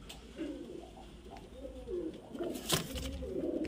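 A male Giribaz high-flyer pigeon in Beldanga coos close by in a run of repeated, rolling low calls, with no talk over it.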